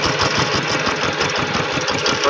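Farm tractor engine running steadily at idle outdoors in a forest clearing where bulls fight, a loud continuous chugging rumble with no pauses.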